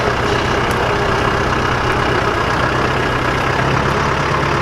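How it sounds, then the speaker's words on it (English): A tractor engine idles loudly and steadily while being backed into a spot, a continuous low diesel rumble with no talking. "We're going to back the tractor in this little spot."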